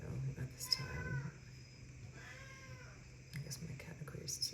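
Cat meowing twice, soft and fairly close, with quiet speech around the meows.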